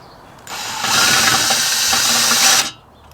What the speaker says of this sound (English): just so we can get the drill in there